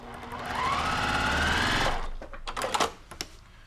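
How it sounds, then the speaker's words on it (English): A sewing machine stitches a quilt block seam in a fast, steady mechanical whir lasting about two seconds, then stops, followed by a few soft clicks and rustles of fabric. "You could stitch a 1/4 inch away from that edge"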